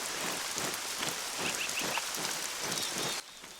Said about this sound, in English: I love the sound of the rain in this game